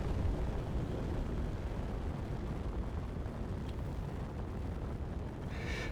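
A drill craft launching upward in a space mining game gives a loud, steady rumbling roar that fills the whole stretch, with a brief hiss near the end.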